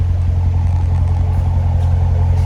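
A 2015 Chevrolet Corvette Z51 2LT coupe idles with a deep, steady, close engine rumble, a strong even low throb running unbroken and with no talking.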